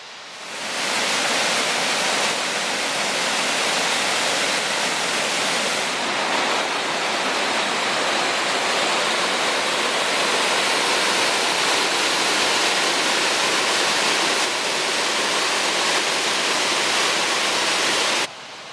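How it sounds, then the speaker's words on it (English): Waterfall in the Lake District near Elterwater, a steady loud rush of falling water filling the whole stretch, broadband and unbroken, with no voices. "to see the next waterfall on our walk"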